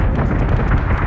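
Ship guns firing in space combat in the Battlestar Galactica Deadlock video game, a dense, loud burst of booming blasts and rumble packed into a second with no pause.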